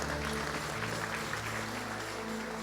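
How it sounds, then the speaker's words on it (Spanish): Church congregation clapping for Jesus Christ during a sermon, a steady wash of applause filling the room with a low organ or keyboard tone sustained underneath. "¿Alguien le puede dar un aplauso al Señor Jesucristo?"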